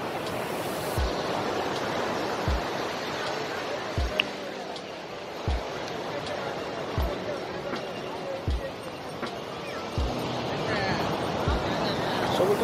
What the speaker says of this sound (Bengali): চুপ করে শুনতে ইচ্ছা করে ঢেউয়ের শব্দগুলো